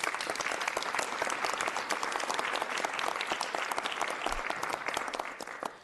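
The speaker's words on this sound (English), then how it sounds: "Can we give her a round of applause?" A council chamber audience claps for the lieutenant governor, a loud, dense, steady round of applause that holds strong throughout before tapering off at the very end.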